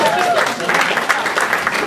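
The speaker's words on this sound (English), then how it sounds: "Can always tell by the applause." Applause from the audience at a heart transplant support dinner as yearly milestones are announced, a steady dense clatter of many hands with voices mixed in throughout.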